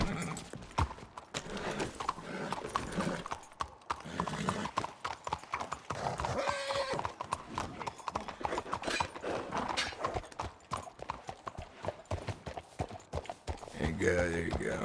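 Horse hooves clip-clopping with occasional neighs in the video game Red Dead Redemption 2, steady footfalls throughout at moderate volume, with someone talking over them.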